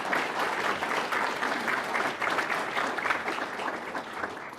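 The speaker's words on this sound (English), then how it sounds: "We should give him a round of applause." An audience at a talk on Illinois political culture breaks into applause, a dense steady clapping from a full room that holds for several seconds and tapers slightly at the end.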